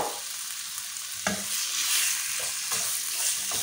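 Chicken sizzling as it fries in a pan over high heat, a steady hiss with a few stirring scrapes and clatters, close and continuous with no talk.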